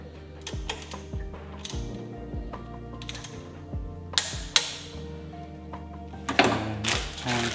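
A bolt on a Mazda MX5 NB cambelt and water pump job is torqued down, giving a series of sharp metallic ratchet clicks and clanks in irregular bursts, close and fairly loud, with no talking.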